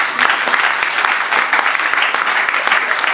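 A church congregation at a wedding service bursts into sustained, dense applause, many hands clapping loudly and evenly throughout with a faint murmur of voices beneath.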